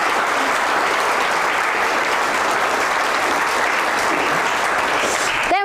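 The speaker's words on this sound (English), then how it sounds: "Give her a round of applause, everybody." Audience at a Shakespeare performance competition grand final bursts into sustained, loud applause, an even, dense clapping filling the whole stretch of almost six seconds.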